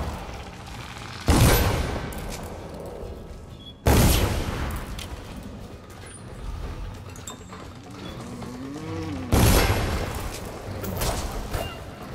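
Gunfire in Dishonored, heard as three loud, sharp broadband blasts spaced several seconds apart, with quieter game ambience and faint mechanical sounds between them, with no talking.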